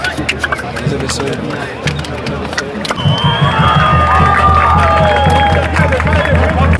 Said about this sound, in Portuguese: Torcida do LM já tá aqui fazendo a maior festa